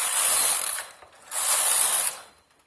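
Carriage of a knitting machine sliding across its needle bed while knitting a lace pattern, two bursts of bright rattling clatter separated by a short pause, close and loud.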